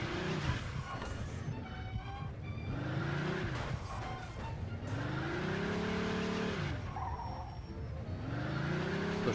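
Car in Mafia II Definitive Edition driving hard, engine pitch sweeping up and down through repeated acceleration, with tire squeals and skids between surges, loud and close.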